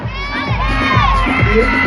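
Loud pageant audience at Mr. and Ms. Abra 2017 shouting and cheering together, a dense continuous roar of voices with high-pitched yells on top.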